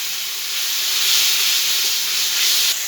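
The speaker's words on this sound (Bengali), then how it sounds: "একটু জল দিয়ে মশলাটাকে ভালো করে কষিয়ে নিচ্ছি।" Spice masala with turmeric and Kashmiri chilli powder cooks in a pan after a splash of water, giving a loud steady steamy hiss close up that swells slightly and then cuts off, with no talking.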